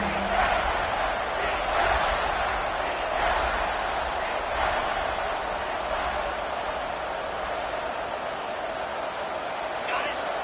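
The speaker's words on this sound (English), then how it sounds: "Big 3rd down as the crowd gets behind this defense." A stadium crowd in the video game NCAA 26 roars for the defense on a big third down, a broad, steady wash of cheering that runs the whole time beneath a commentator's voice.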